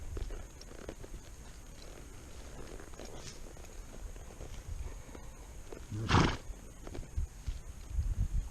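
A horse named Bruce being ridden at a slow trot, with soft irregular hoof thuds and some shuffling, plus one louder burst of movement near the end, all fairly close.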